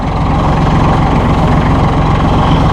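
Izeki engine of a 2008 Massey Ferguson 1533 compact tractor runs at a steady, even idle-like hum, loud and close throughout with no talk over it.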